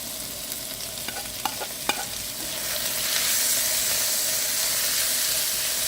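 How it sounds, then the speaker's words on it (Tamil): Tomatoes and onions frying in a pan for mushroom masala, a few sharp spoon scrapes and clinks early, then a loud, broad hiss as the tomatoes hit the hot oil and keep sizzling, close and alone. "வெங்காயம் ஓரளவுக்கு வெந்து வந்தோடனே தக்காளியை போட்டுருவோம்."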